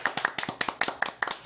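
Rhythmic hand clapping, about eight evenly spaced sharp claps in a second and a half, close and fairly loud, with no talking over it.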